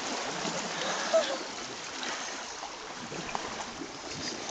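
An elephant wades into a river to bathe, giving a steady broadband wash of sloshing, churning water with one brief splash near the start.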